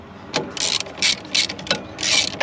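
A ratchet tightens nuts on the knife of a John Deere 8700 forage chopper, sounding as several short bursts of close, crisp clicking separated by brief pauses.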